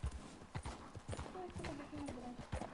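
Horse hooves clip-clop repeatedly in a PS4 video game, steady uneven steps close up, with someone talking over them and game sounds behind.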